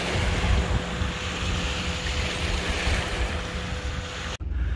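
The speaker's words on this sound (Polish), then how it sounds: "to co tutaj teraz płynie, Uber Boats, i jest odpowiedni stan wody, to tu jak te fale uderzają" An Uber Boats river boat passing with waves slapping against a riverside wall, a steady rushing wash with wind noise, continuous and fairly close, ending in a brief dropout.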